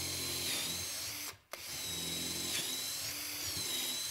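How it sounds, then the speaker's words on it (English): A power drill whirs steadily while boring a pocket hole into wood with a stop collar on the bit, pausing briefly partway through before grinding on at a constant pitch, close and loud. "we're simply going to drill a hole until the stop collar touches"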